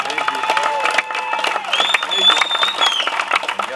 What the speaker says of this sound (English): Can you guys give them a round of applause for making this happen, please?